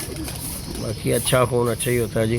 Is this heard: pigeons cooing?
yes